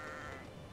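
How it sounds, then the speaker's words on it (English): Sheep bleating inside the fantasy video game Magicka, a short steady bleat filling the whole moment at moderate loudness with no talk over it. "Kill the sheep."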